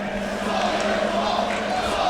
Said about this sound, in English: the crowd starting to get into this one a little bit